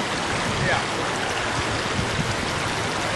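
River current rushing in a continuous broadband wash of flowing water, steady and fairly loud, with faint voices underneath.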